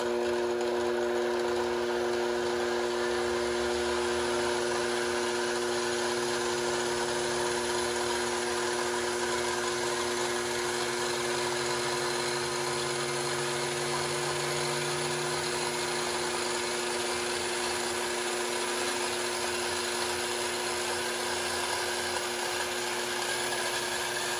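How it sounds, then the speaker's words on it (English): A power station's electric motor runs steadily at full speed, a loud, unbroken whine and hum that holds constant throughout with no pauses. "the first stage of the motor kicked out and the second stage came in and it started spinning at full speed"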